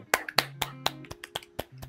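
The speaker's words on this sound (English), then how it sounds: "Clapping is in order." A few people clapping after a resolution passes in a model UN session, about a dozen sharp, uneven claps at close range over a low steady hum.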